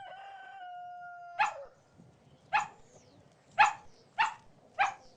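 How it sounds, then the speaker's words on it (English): A drawn-out tonal call is followed by five sharp, evenly spaced cartoon dog barks, fairly close and clear against a quiet background. "No, kids, that's how dogs bark."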